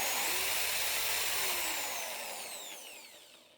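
A power drill whirs steadily, spinning a wooden egg mounted on a nail, loud and close, with the pitch gliding as it slowly winds down toward the end.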